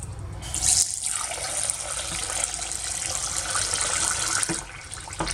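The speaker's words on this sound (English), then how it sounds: "And we add some water." Tap water runs steadily into a pot or sink while chicken livers are prepared with dry lime, salt and chopped onion, a continuous close splashing stream lasting several seconds with no talk.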